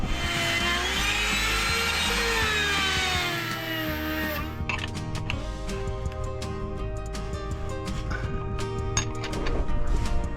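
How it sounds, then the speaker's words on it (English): A router trims overhanging laminate while a wall is recovered, first a loud high whine for several seconds, then a lower steady drone with crackly cutting and clicks, close by. "I'm going to use a router to trim that off."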